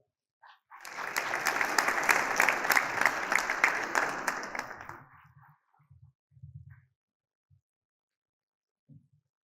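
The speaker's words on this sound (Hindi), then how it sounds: "आप हजरात से गुजारिश है कि भरपूर तालियों से आप" Audience at a Republic Day poetry mushaira inaugural ceremony breaks into a swell of applause lasting about four seconds, then fades to a few scattered claps and brief low sounds in a quiet hall.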